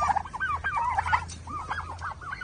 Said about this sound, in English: I'm just giving y'all an update on my turkeys